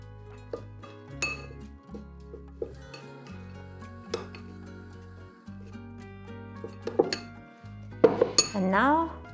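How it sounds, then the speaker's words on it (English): Chopped walnuts being mixed with cinnamon and cardamom in a bowl for baklava: irregular clinks and scrapes of a utensil against the dish, fairly close, over steady background music. "I'm gonna mix some of my walnut together with some cinnamon"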